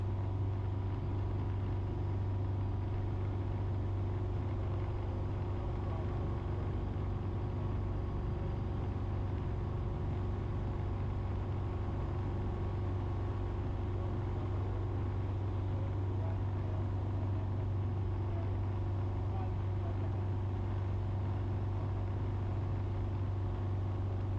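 A light aircraft engine on its first test flight drones steadily and loudly throughout the climb at about 75 knots to 3,000 feet, a constant low hum with no pauses and no voices.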